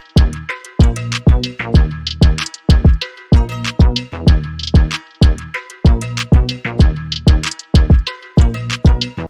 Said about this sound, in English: like a charango